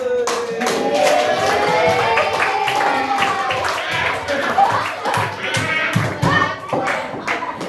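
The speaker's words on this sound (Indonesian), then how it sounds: "Tepuk tangan lagi." Schoolchildren at an elementary school clap in a lively burst of irregular applause, up close, mixed with chatter and children's voices throughout.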